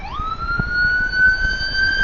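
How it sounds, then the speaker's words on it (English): A wailing emergency siren rises in pitch and then holds steady, sounding from some distance behind cyclists in a road race, over a background of road noise. "I'm hearing the siren in the rear."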